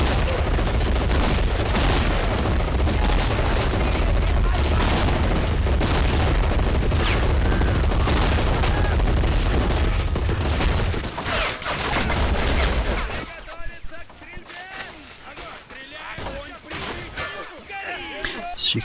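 German MG34 and MG42 machine guns in a Men of War battle at a bridge, loud dense bursts of automatic fire mixed with explosions for about 13 seconds, then thinning to scattered shots and quieter battle noise.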